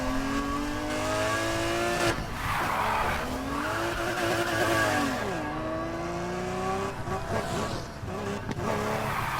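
Ford GT with a twin-turbo V12 in a racing video game, a loud sustained engine drone whose pitch rises and falls through gear changes, with tire squeal and skidding mixed in throughout.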